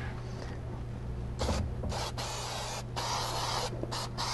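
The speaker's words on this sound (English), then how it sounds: "now I'm gonna spray the material" Spray adhesive hisses onto felt-backed headliner material inside a classic VW Beetle, a steady close airy spray broken by short pauses between several bursts over a constant low hum.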